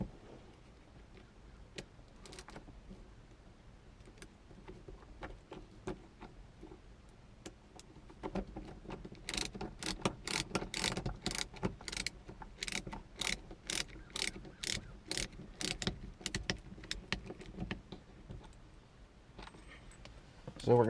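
A star-tip driver backs out sun visor screws on a 1996 Chevy S-10 with a 350 V8, a long run of quick, close ratcheting clicks that grows louder in the middle and goes on steadily, with no voices.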